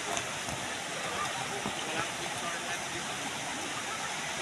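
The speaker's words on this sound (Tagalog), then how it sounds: "Yan ang kanyang waterfalls." Waterfall on Coron Island, a steady broadband rush of falling water holding constant throughout, fairly close and loud with no other sounds standing out.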